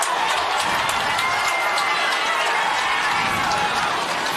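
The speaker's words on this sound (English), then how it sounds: "Crowd whooping it up." A crowd whooping and cheering at a high school varsity football game, Holliston against Lincoln-Sudbury, a dense, loud, steady roar of voices filling the whole stretch.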